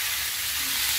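Spices sizzling in a hot frying pan as a little water is added while cooking tongkol mercon, giving a steady, close, bright hiss that runs unbroken throughout with no voices.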